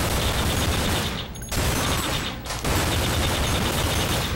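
Rapid gunfire in Manhunt 2, dense crackling bursts near and loud, broken by two brief pauses before firing resumes.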